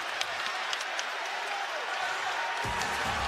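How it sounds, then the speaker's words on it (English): Basketball arena crowd at a UCLA Bruins home game against Michigan, a steady roar of cheering and applause that swells near the end, loud and continuous with no clear talk. "Listen to this crowd"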